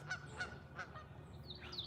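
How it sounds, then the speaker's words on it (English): Geese honking outdoors near a vegetable garden, several short nasal honks in an irregular series at moderate distance, with no talk over them. "I mean, these birds out here, y'all. These birds."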